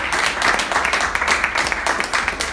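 A church congregation claps and cheers after a sermon story, a short steady burst of applause filling the room, with faint voices mixed in.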